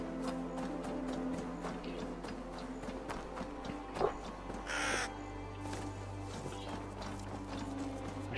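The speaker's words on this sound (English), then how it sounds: "I should have killed that crow." A crow caws in the video game Assassin's Creed Valhalla, a short harsh call near the middle. It sits over steady ambient game sound with hoofbeat-like clopping, and there is no talk.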